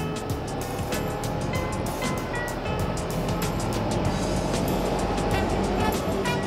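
A 2017 Suzuki GSX250R motorcycle engine revs steadily at about 5000–7000 rpm while riding, a constant droning hum heard under heavy wind rush, with no voices.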